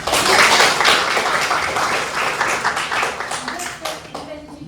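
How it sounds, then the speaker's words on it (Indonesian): Audience clapping in a university teaching session, a dense sustained patter of many hands at steady loudness with a voice or two mixed in underneath. "Oke, bagus sekali, tepuk tangan tuh."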